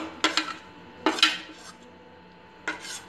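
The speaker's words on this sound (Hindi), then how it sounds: "इसमें क्रश की हुई गाजर मिलाएंगे" Crushed carrot added to sabudana in a bowl for sabudana tikki, heard as three short bursts of utensil clinks and scraping against the bowl, close and fairly quiet, with no talking.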